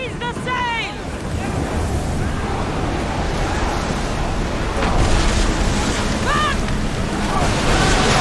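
Sailing ship crashing through the sea in Assassin's Creed Odyssey, a steady loud wash of waves and wind rushing past, with shouted crew voices and creaking calls briefly rising over the surf.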